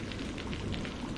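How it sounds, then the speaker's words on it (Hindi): Heavy cartoon rain pours steadily in a jungle scene, a constant hissing downpour with soft drop patter, moderately quiet and uninterrupted, no voices. "ओहो, कितनी तेज बारिश है"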